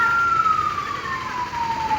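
An ambulance caught in a traffic block at a road junction sounds its siren, one loud, close wailing tone sliding slowly downward and sustained over steady road noise.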